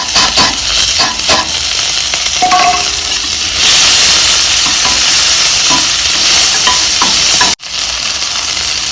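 Cumin and onion fry loudly in hot oil in a pan, a steady close sizzle with scattered clinks and scrapes of a utensil, cutting out briefly near the end before resuming.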